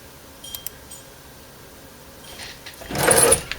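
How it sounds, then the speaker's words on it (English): An HP OfficeJet 4650 printer starts a test page: a few faint clicks, then a rising mechanical whir that swells into a louder buzzing feed near the end, heard close up without speech. "we can print a test page"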